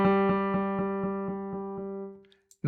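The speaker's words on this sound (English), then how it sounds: "I can get this to behave like a delay, or at least sound a little bit like a delay" A synth tone pulses in a steady series of evenly spaced repeats, each echo fading slightly, then the sound dies away before a faint click at the end.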